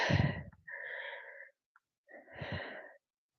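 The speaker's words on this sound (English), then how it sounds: "I'm already sneezing." A close, breathy sneeze followed by two wheezy, snorting bursts with brief silences between them.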